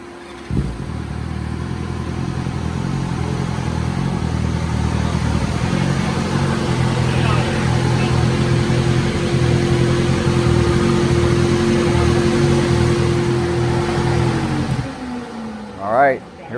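A BMW engine runs on a dyno during a horsepower pull, holding a loud, steady droning tone for many seconds before the revs drop away and the sound fades near the end.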